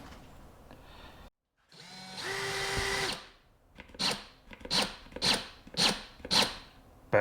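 A power drill whines in a sustained burst while drilling a pilot hole, then revs in five short, regular pulses, each spinning up and cutting off, close and fairly loud.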